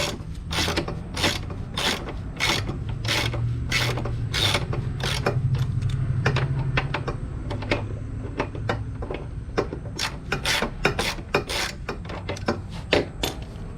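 Ratcheting of a socket wrench while releasing the front axle bolt on a 2018 Suzuki GSX250R motorcycle, a long run of sharp, fast clicks in irregular bursts, close and fairly quiet, with no talk.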